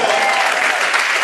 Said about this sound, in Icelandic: Gefa gott klapp!